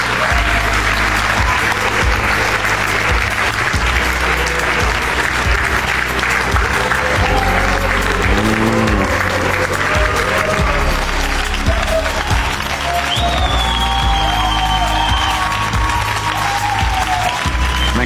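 Sustained, loud applause from a television talent-show audience in Armenia, cheering for the contestant Hrach Safaryan as he leaves his chair, with dense continuous clapping and crowd noise throughout.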